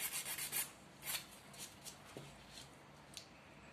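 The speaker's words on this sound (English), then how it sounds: "just start sanding." Soft scratchy rubbing strokes, a few quick passes in bursts, quiet and close, like sandpaper worked by hand on a small object.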